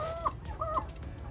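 Backyard hens in a coop give two clear, close clucks with a short gap between them, above a low background hum.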